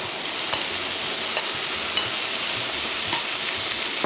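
Vegetables stir-frying in a pan for instant ramen yakisoba, a steady loud sizzle with occasional soft scrapes of stirring throughout, close and continuous with no talking.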